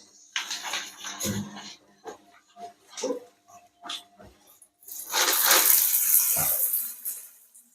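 Water hisses from a tap in bursts, with a louder sustained misty spray near the end, mixed with scattered knocks and brief soft sounds.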